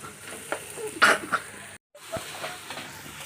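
Masala browned with boiled potato sizzles in a pan, a soft steady fry with a few stirring clicks and a brief scrape, relatively quiet with a short gap of silence midway.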